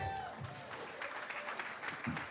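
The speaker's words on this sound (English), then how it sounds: "that's like 2 people clapping" Thin, sparse clapping from only a few people in a pitch-competition audience, soft and scattered over a couple of seconds.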